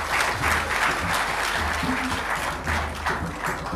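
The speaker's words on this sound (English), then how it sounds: "He deserves another round of applause." Steady, loud applause from a crowd, continuous clapping throughout with a low hum of voices underneath.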